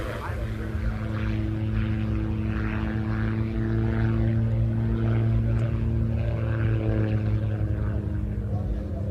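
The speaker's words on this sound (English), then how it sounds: "The engine, the Rotax engine, is actually powering the propeller at the back, and that's what's pushing him forward." A Rotax-engined pusher-propeller aircraft flies at an airshow, giving a steady, buzzing propeller drone at moderate distance that holds throughout.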